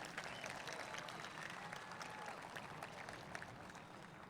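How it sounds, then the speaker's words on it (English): An audience at a high school graduation ceremony claps steadily, a dense and sustained ovation that carries evenly from start to end without any voices over it. "Let's give that a round of applause."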